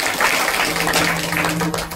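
An audience at a Hanuman Jayanti kirtan claps together in a dense, sustained patter of many hands, with a voice and tonal sounds faintly beneath.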